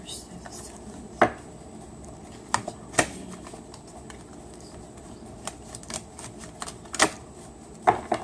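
Cards shuffled by hand for a tarot-style energy reading, giving sparse sharp clicks and slaps at irregular intervals against a quiet room background.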